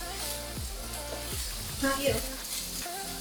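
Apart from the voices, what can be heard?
mushrooms frying in a pan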